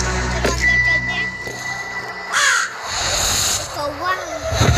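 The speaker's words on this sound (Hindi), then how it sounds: "कौवा" A crow caws loudly nearby at night, a few harsh calls breaking through while a person talks over the sound and other noises shift around.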